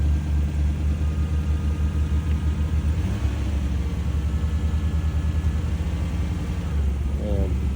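A car engine rumbles steadily at a low pitch, close by, running the whole time with a faint voice in the background.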